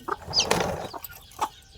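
Newly hatched chicks in a village cheeping and clucking in short, scattered calls with brief pauses between them, close by and fairly quiet against a faint background.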